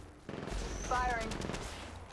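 Automatic weapon fire in the Apex Legends Mobile battle royale game: a short, quiet, rapid burst of shots with a voice speaking over it.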